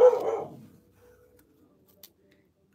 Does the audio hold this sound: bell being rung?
no